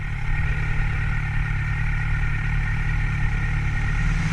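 A big motorcycle engine runs with a steady, loud, deep rumble and clatter throughout, with no talk.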